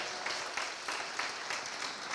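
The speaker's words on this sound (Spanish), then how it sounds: "Dan un aplauso al Señor en esta noche, vamos." A church congregation claps during an evening service, the soft, fairly distant applause pulsing in a steady rhythm throughout.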